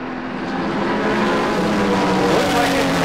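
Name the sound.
Porsche 935 and other race cars passing on track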